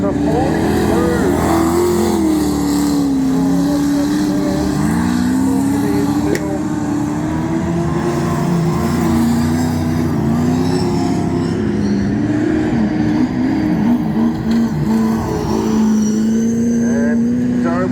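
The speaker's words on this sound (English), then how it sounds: "And don't we just love racing here at Wahgunyah Speedway?" Race cars at Wahgunyah Speedway during the AMCA Nationals Victorian title meeting, loud engines droning and shifting in pitch as they rev continuously for the whole stretch, with a commentator talking over the noise.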